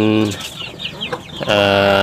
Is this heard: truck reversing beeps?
no